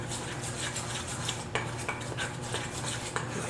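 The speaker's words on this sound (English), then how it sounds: "it says mix until it's a smooth consistency" Fried pickle batter laced with hot sauce is stirred in a bowl, a utensil scraping and clinking against the sides in quick, uneven strokes, close and fairly loud with no voices.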